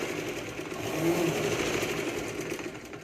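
A sewing machine runs steadily while stitching along the neckline of a katori blouse, a continuous close mechanical whir that swells slightly midway and holds for about three seconds with no talking.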